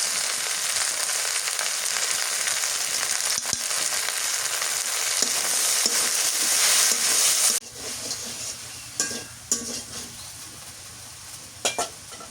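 Sliced okra frying in hot oil with onion and garlic paste, a loud continuous sizzle that drops sharply midway, followed by occasional stirring scrapes and clinks of a utensil against the pan.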